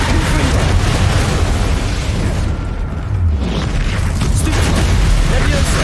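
Spell explosions and bursts from combat in the video game Hogwarts Legacy, loud and dense, with booming low impacts and crackling blasts running continuously and only a brief lull near the middle.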